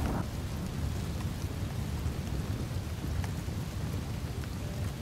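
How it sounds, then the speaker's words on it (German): Rain in Desperados 3, a dense steady downpour hissing and pattering on surfaces with a low rumble underneath, continuous and fairly close, no voices. "Ich könnte auf den Regen verzichten"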